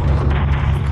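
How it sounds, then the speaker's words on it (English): Missile strike detonating on a SAM site in Call of Duty: Modern Warfare 3, a loud, sustained, low rumbling boom that fills the whole moment without any voices. "Gunner, drop a missile on that SAM site."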